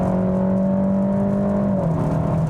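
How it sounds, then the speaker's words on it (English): A 2021 Kia K5 GT-Line engine drones steadily and loudly with a coarse, raspy tone, pitch shifting slightly as it accelerates close by, short shifting at 5,800 rpm. "The engine doesn't sound all that pleasant. It definitely has a rather raspy tone to it"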